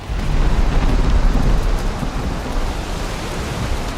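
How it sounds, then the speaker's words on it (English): Heavy rain with rolling thunder in the survival game Valheim, a loud dense wash of downpour and low rumbling with no voices over it. "Still raining like crazy"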